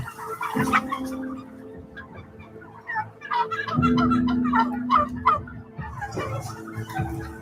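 Broiler chickens crowded in sheds, with repeated close clucks and squawks from several birds rising and falling over a low barn hum, loud bursts recurring every few seconds.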